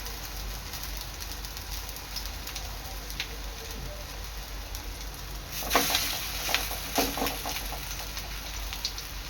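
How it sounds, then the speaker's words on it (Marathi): Soybean kebabs fry in a pan over a low gas flame, giving a steady soft hiss throughout, with a few louder crackles and stirring clinks near the end; no voices. "आणि स्लो गॅसवर खरपूस रंग येईपर्यंत चांगले तळून घ्यायचे आहेत."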